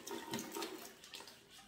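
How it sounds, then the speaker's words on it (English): Water is squeezed out of a water storage bladder into a bucket, making a steady, soft splashing and gurgling pour with slight pulses, close up and fairly quiet, with no talking. "And you just kind of got to squeeze it and withdraw water"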